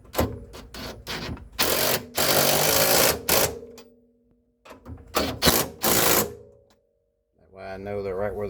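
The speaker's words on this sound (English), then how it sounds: "And then I'm gonna grab my impact driver, and then we'll cinch them down." An impact driver hammers on rear strut bolts of a Mitsubishi 3000GT VR4 clone, several loud rattling bursts separated by pauses, with a voice speaking at the end.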